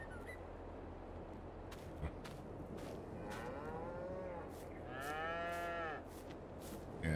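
Cattle in the Farming Simulator 22 video game moo several times, drawn-out calls rising and falling over a steady low farm ambience with no talking.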